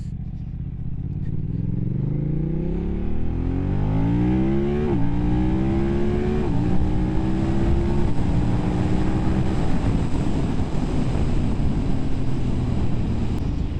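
A 2025 BMW F900R motorcycle engine revs up through several gears, its rising pitch dropping at each shift, loud and steady throughout with no talk.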